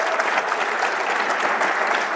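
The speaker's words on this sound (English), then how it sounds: "round of applause for Peggy" An audience at a leadership keynote of the BEMA Convention claps in a dense, steady round of applause for one attendee, with many hands blending into an even roar that holds at the same level throughout.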